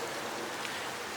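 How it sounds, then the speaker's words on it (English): Rain beginning to fall among sheltering trees outdoors, a steady soft hiss of drops spread evenly across the moment with no distinct individual hits and no voices. "yeah, it's actually starting to rain"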